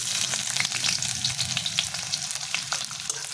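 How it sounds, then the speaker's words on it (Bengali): Chopped onions hit the hot oil in a pan, giving a loud, dense, crackling sizzle that stays strong throughout, with faint stirring beneath. "এরপর দিয়ে দিচ্ছি পেঁয়াজ কুচানো"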